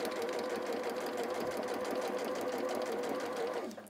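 A domestic sewing machine, model 550, stitches fabric at fast speed, a steady close whirring and rapid mechanical chatter that runs unbroken until it stops abruptly at the end.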